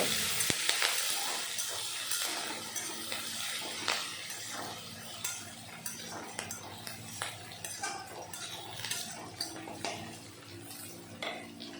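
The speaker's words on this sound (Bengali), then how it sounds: "এখন একটু রসুন আর কাঁচা লঙ্কা ভেজে নেব" Garlic and green chilies fry in oil in a pan, giving a soft continuous sizzle broken by repeated clinks and scrapes of a stirring utensil against the pan.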